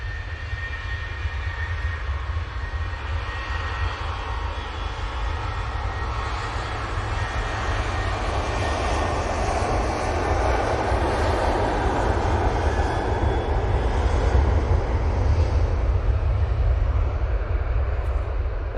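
A plain-liveried TUI airliner takes off from Manchester Airport for Kavala, a steady jet rumble over heavy low-end buffeting that grows slightly louder toward the end, with no voices.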